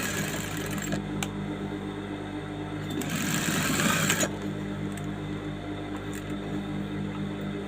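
A sewing machine stitches the side seam of a lined saree blouse, a steady mechanical hum with a louder burst of fast stitching in the middle before settling back to a low running whir.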